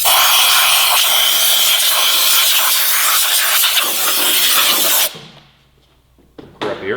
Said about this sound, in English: Blow gun time.